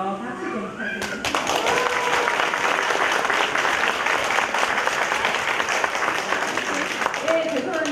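Audience applause for the five teachers at an elementary school event on a hot Saturday; brief talk, then from about one second a dense, loud burst of many hands clapping that stays steady to the end.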